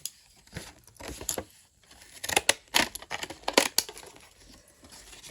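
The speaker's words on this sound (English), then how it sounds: "I just keep wanting to use these scallop scissors today." Close, crisp snipping and crinkling as scallop scissors cut through paper in a quick irregular series, with no voices.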